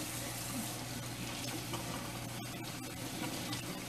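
Hot water running from a kitchen tap, a steady, continuous rushing hiss, close and moderately loud, with a few faint clicks partway through.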